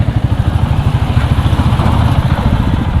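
A 2023 Royal Enfield 350 motorcycle engine thumping close by while ridden, a steady, pulsing low rumble and mechanical clatter held at an even pace.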